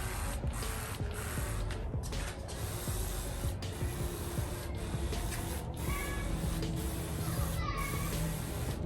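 A towel rubs steadily over a Tesla car door during a waterless wash with diluted solution, giving soft continuous scrubbing and wiping sounds close up, with a few brief squeaks.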